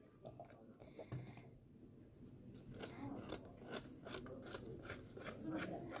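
A paper trimmer blade slices through card in short scraping strokes, faint and close, with light rubbing and handling noises around them.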